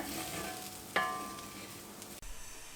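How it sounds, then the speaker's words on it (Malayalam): Cumin and coriander powder roasting in a pan for potato-free pav bhaji, a quiet steady sizzle marked by one crisp spatula scrape and a brief clunk near the end, close up with no voices. "എന്നിട്ടൊന്ന് നമുക്ക് ഇളക്കി കൊടുക്കാം. പൊടി ഒന്ന് റോസ്റ്റായിട്ട് വരാൻ വേണ്ടിയിട്ട്."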